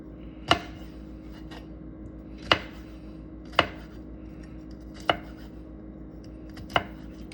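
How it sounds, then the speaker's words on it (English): Garlic being minced with a knife on a cutting board: five distinct, sharp chops at irregular spacing over a low, steady background hum. "The garlic, I want to mince it."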